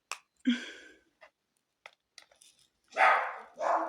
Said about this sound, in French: vous entendez mon chien